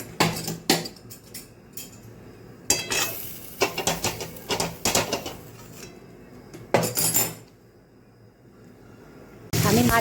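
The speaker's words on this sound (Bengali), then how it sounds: "আমি মাছ ভাজার তেলের মধ্যে গোটা গরম মশলা দিয়ে একটু নেড়ে আলুগুলোকে ভাজতে দিয়ে দিলাম।" Potatoes frying and being stirred in used fish-frying oil with whole garam masala, heard as clattering spoon-and-pan knocks in irregular bursts with a soft sizzle beneath, separated by quieter pauses.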